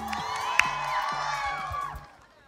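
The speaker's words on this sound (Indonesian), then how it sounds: "Tepuk tangannya dong buat Agung." A studio audience at a talk show cheers and whoops, with a few bright shouts and scattered claps rising briefly, then dying away after about two seconds.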